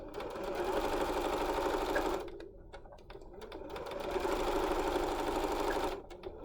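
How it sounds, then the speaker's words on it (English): A sewing machine stitches a casing along a pleated fabric face mask, running steadily for about two seconds, pausing briefly, then running again for about three seconds before stopping. "And I am going to stitch this."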